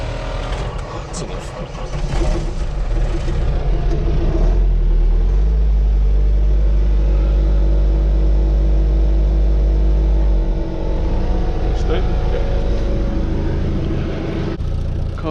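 A snow plough's diesel engine, slow to start in the cold after a long glow plug wait, cranks and catches, then settles into a loud, steady low rumble as it warms up, with a brief dip partway through.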